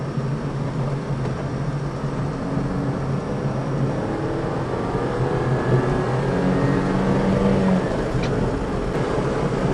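A homemade kei truck camper rounds tight hairpin curves in second gear, its small engine holding a steady, moderately loud drone with road and tyre rumble throughout and no talking.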